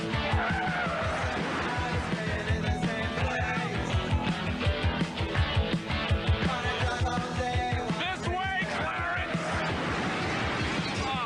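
Pole Position race car skidding in the vintage Atari video game, with continuous loud electronic engine drone and tire squeal that stay steady and dense throughout, along with chiptune-like tones.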